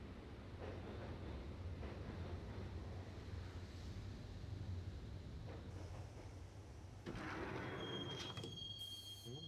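Train ride in the game Max Payne, a continuous low rumble of rolling rail wheels with squealing metal and a rising screech near the end, quiet and steady, no talk.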